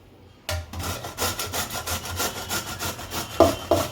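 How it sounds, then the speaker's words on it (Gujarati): Bottle gourd is rubbed against a coarse hand grater in a home kitchen. It makes steady, rhythmic rasping strokes, loud and close, with a few sharper scrapes near the end. "આ મોટી ખમણી એમ તો છીણશું"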